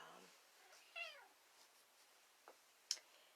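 A sad male house cat meows faintly indoors in a couple of brief, quiet calls, with a soft higher chirp near the end, set against low room noise with faint human voice traces.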